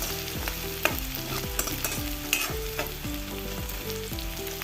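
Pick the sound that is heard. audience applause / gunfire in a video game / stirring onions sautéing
stirring onions sautéing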